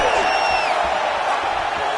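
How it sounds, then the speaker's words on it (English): A UFC fight crowd roars in a steady, dense wash of cheering and whooping that fills the whole moment, with a commentator's voice running over the top. "you hear the crowd react every time they come together"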